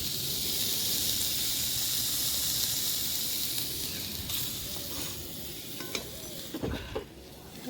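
Eggplant slices fry in hot oil in a home kitchen, making a steady, close sizzling hiss that eases slightly toward the end. A few soft clatters follow near the end.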